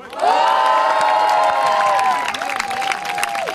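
A crowd applauds and cheers prize-winning youth teams at a parish football tournament in Braine-l'Alleud, Belgium: dense clapping with whoops and shouts, loud and close, holding steady for most of the stretch.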